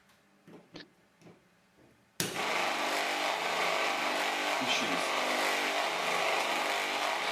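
A motor-generator running on mains power from an AC socket switches on after a few quiet clicks, then gives a continuous loud whirring hum that holds steady to the end, with no talk.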